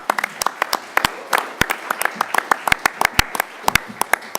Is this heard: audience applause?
yes